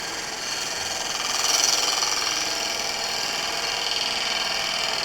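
A 3/8 bowl gouge cutting wood on a spinning lathe, a steady hissing, whirring drone that swells slightly and holds even for several seconds, close and without talk.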